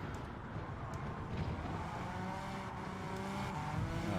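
A race car engine in the Gran Turismo 7 racing game hums faintly and distantly, a low steady drone with occasional tire noise and no voices over it.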